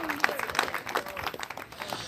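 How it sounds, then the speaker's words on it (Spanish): A church congregation at an evangelistic campaign service claps together, a faint, steady patter of many hands with a few sharper claps standing out, spread across the room. "dele fuerte ese aplauso si es para Él"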